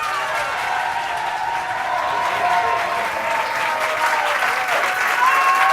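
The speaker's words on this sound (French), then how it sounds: "Je vous demande d'applaudir Adil Ben Idir" Enthusiastic audience applause for a comedian at a televised stand-up show, a continuous full wash of clapping from a large room that stays loud and even and builds slightly toward the end.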